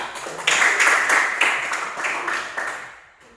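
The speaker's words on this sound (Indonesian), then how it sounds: "Tepuk tangan." A group of students in a classroom gives a round of applause, dense overlapping hand clapping that holds steady for about three seconds before fading out.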